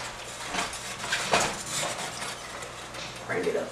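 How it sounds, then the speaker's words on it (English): Tomatoes are stirred into lentil soup in a pot on a stove, with a spoon scraping and clinking against the pot in several close, uneven strokes. "Stir that in."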